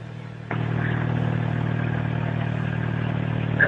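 Exhaust of a Chevrolet Cobalt SS starts abruptly and settles into a steady, deep rumbling drone close by, holding a constant idle-like tone with a small rise at the very end and no talking.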